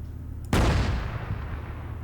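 A sniper rifle fires a single loud, close shot in the video game ARMA 3, aimed at a target 2.4 kilometers away, and the report rolls on in a long, fading echo.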